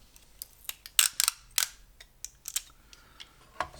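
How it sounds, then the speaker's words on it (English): Sharp tearing and crackling bursts of tape are applied close by during a Rollei 35 camera repair, irregular snaps and rips with quiet gaps between, no talk. "what I like to do is I like to tape this area off anyways"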